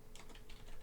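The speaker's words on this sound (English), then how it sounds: "we'll type in nslookup" Keys tapped on a computer keyboard while entering the nslookup command at a Windows Server 2003 command prompt, a faint quick run of soft clicks over background hiss.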